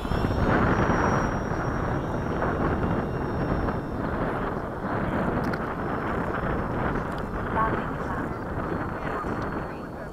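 An Avanti model jet airplane coming in to land, its turbine whine and rushing airflow carrying steadily for several seconds amid heavy wind buffeting on the microphone, a voice talking faintly over it.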